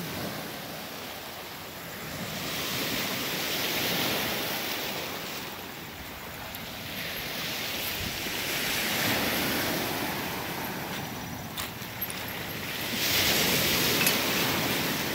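Steady sea waves wash and hiss along the shore at night during fishing in Batangas, a continuous broadband surge that swells and eases with some wind buffeting, no voices present.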